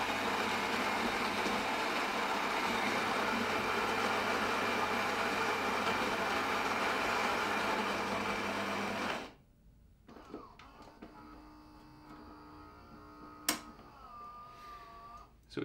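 A Gaggia Brera espresso machine grinds coffee with a steady, dense whirring buzz for about nine seconds, then stops abruptly, leaving quiet clicks, a short squeak and small mechanical sounds.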